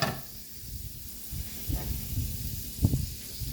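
Beef patties for Salisbury steak fry in a buttered pan over just-under-medium heat, giving a steady close sizzle and hiss with occasional soft pops and crackles.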